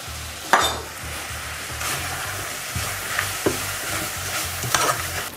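Apples frying in butter in a pan as they caramelize and release juice, with a continuous close sizzle and occasional clinks and scrapes of stirring against the pan.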